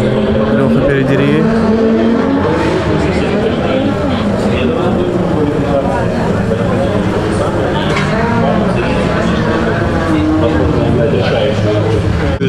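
Drift cars racing at an RDS Vostok round in Khabarovsk, engines roaring loud and continuous with tires squealing throughout, under steady talk and crowd noise.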